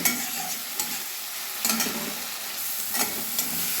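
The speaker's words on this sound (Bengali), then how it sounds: "এই দেখুন, টমেটো ভাজা হয়ে গেছে, নরম হয়ে এসছে।" Tomatoes fry in a pan for a chang fish dish, a close, dense sizzle with a few soft stirring knocks and no talk.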